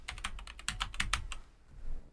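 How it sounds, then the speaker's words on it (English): Fingers type on a computer keyboard in a quick burst of about a dozen close, crisp keystrokes, then a brief pause and one or two softer key sounds. There is no speech. "type the word essentials"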